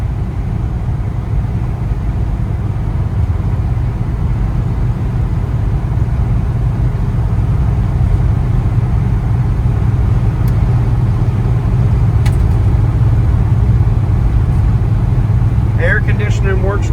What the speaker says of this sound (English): Really runs and drives good, shifts through all the gears the right way.